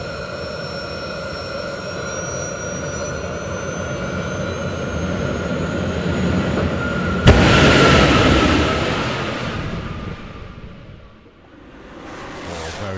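A Spider-Man themed jet dragster at a drag racing event roars loudly with a sustained turbine howl, then a sharp blast as it launches down the strip, the roar fading away into the distance.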